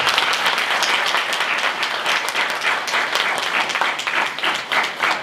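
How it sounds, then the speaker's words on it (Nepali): Sustained audience applause at a church talk, a dense, steady wash of many hands clapping close by, evenly loud for about five seconds with no voices. "हामी ठुलो ताली बजाएर धन्यवाद दिन्छौँ।"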